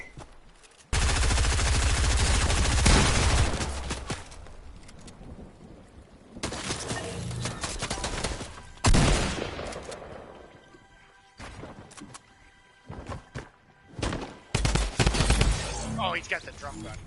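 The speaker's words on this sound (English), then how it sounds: "Oh, he's got the drum gun." Drum gun from the video game Fortnite firing in long rapid bursts, loud and close, separated by quieter gaps with a few sharper single shots, and a person talking in between.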